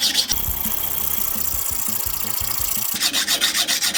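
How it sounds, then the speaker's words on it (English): A reamer is hand-sharpened on a 260-grit diamond hone, heard as close, rhythmic back-and-forth rasping strokes, with a short run of quicker scraping near the end. "now I'll go after it with the finer grit diamonds"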